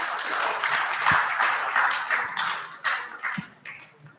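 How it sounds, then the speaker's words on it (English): Audience claps for the speakers at the 2021 Ghana Internet Governance Forum session, a modest round of applause from a smallish group that rises and then tapers off into a few separate claps. "So can we give our speakers a hand of applause?"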